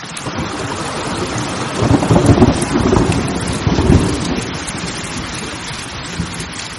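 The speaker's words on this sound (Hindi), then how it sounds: "कहानी शुरू होती है एक तूफानी रात से" Thunder rumbles through a stormy night over steady heavy rain, with two louder rolling peaks and wind in the background; no voices.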